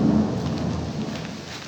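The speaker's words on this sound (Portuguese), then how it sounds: "Caindo um pé d'água aqui que vocês não têm noção." Heavy rain pours down continuously with a deep rumble of thunder underneath, a loud, dense wash of noise with no voices.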